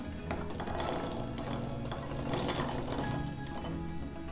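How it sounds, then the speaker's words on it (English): Rinsed cranberries poured from one dish into a serving bowl in a home kitchen, a soft continuous rattling tumble of small berries with faint wet clatter, quiet and close. "We are going to pour these in here."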